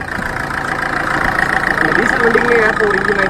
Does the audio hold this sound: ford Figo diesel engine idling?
yes